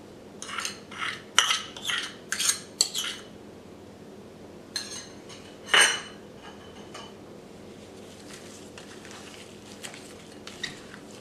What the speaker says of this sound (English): Let's season the shrimp with half of the garlic mixture.